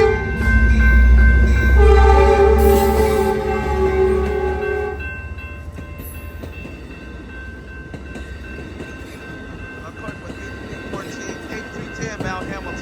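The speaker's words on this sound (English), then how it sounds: "There go that train, folks, on its way to San Jose." Amtrak Capital Corridor train 727, bound for San Jose, passes 105th Ave in Oakland, opening with a loud sustained horn and then a fading rumble of wheels on rails.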